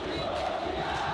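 Fans in the stadium at a Fortaleza versus Cerro Porteño Copa Libertadores football match cheer and chant as one sustained, loud roar of a big crowd, with no commentary heard over it.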